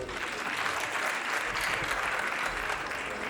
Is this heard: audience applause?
yes